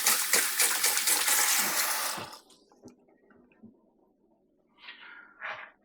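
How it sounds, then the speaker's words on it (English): Hands being rinsed under a running tap, a loud steady gush of water for about two seconds that then cuts off, followed by faint handling noises and two brief splashy bursts near the end. "Just going to wipe my hands, rinse my hands."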